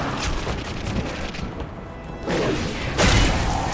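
A grenade blast in the video game The Darkness II, a loud booming burst rising near the end over continuous dense game noise, with a rumbling low thud.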